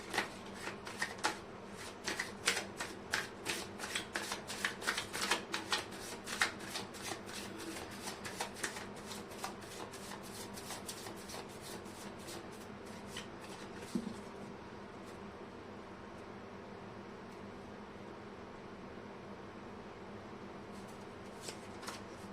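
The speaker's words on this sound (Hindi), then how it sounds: "मैं कर लेती हूँ कार्ड की शफलिंग।" A tarot deck is shuffled by hand in quick, rapid riffling bursts of card flicks, close and fairly quiet, thinning out to softer handling near the end.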